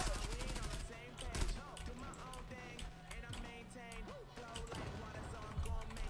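Rapid bursts of AUG rifle fire in the online shooter game Zula, crackling continuously amid dense game effects and other players' shots, with someone talking over the action.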